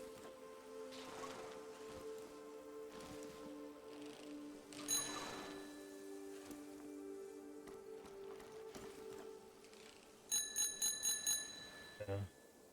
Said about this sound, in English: There's a bicycle bell.